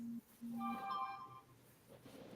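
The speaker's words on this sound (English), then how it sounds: "Whose phone was that?" A phone rings indoors during a nighttime investigation at Hartsuff Hall, sounding as a few short bright electronic tones, a low buzzing pulse followed by a melodic chime, fairly faint against a quiet room.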